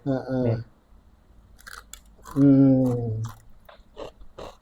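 Crispy fried Mustofa potato snack crunches in a few short, sharp bites scattered between stretches of nearby talking.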